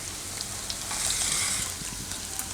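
Boiled corn goes into paneer frying in ghee with cumin, giving a soft close sizzle that briefly rises into a brighter hiss, with light stirring clicks and no talking.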